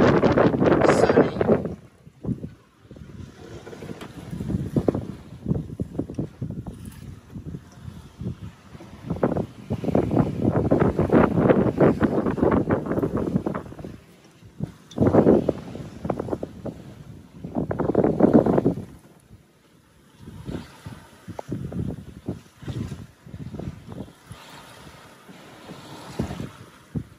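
A sailboat runs on a beam reach in sunny wind at about six knots, with steady loud wind rushing over the microphone and water washing along the hull in surging waves.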